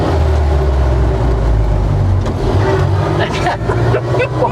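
A heavy 93-year-old truck engine pulls low and rumbling in first gear, building with rough mechanical clatter, close up and loud.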